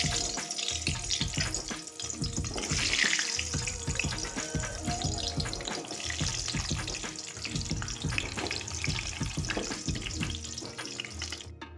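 Amla, Indian gooseberries, frying in well-heated oil for pickle, a steady dense crackle and sizzle close by with brief stirring or clatter, no voices.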